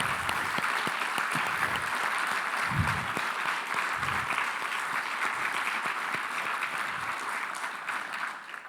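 A conference audience at the Women's Network Act Big Conference claps in a loud, dense and sustained round of applause that keeps going evenly for the whole stretch, with only faint crowd murmur underneath.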